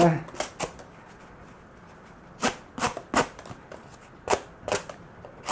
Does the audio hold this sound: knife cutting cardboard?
yes